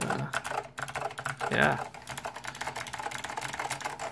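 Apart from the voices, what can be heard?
typing on Monterey K2AX mechanical keyboard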